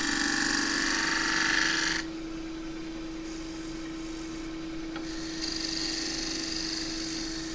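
A lighter shear scraper, held flat, works a wavy casuarina bowl spinning on a wood lathe, giving a steady close hum and rasp that drops and softens after a couple of seconds.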